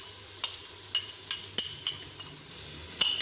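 Garlic ginger paste sizzles in a pan with golden fried onions, a steady frying hiss broken by a spoon scraping and clinking against the pan about every half second, close up.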